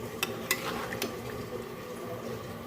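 Sweet mango pickle cooking in melted sugar is stirred in a pot, with a few sharp clinks of the spoon against the metal over a low, soft bubbling and sizzle, fairly quiet and with no talking.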